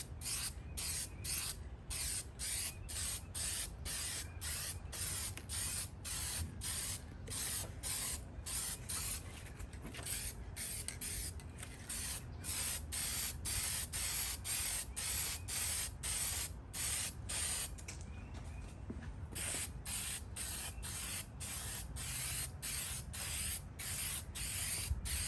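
Steady close hiss of a spray gun laying a heavy textured coating onto the sail panels of a 1999 Cadillac Escalade. The spraying runs continuously, broken by brief gaps, with outdoor wind noise underneath.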